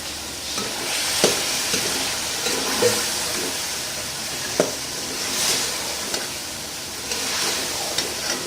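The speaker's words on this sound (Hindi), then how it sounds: "मसाला हम थोड़ी देर भूनेंगे।" Masala for Lahori-style chicken karahi sizzles and fries steadily in oil, a continuous crackling hiss broken by occasional sharp clacks of a spoon stirring against the pan.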